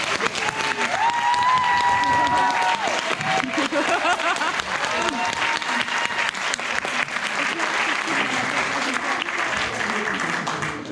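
A crowd at a film screening claps loudly and continuously, with dense applause filling the whole stretch and some cheering and voices mixed in.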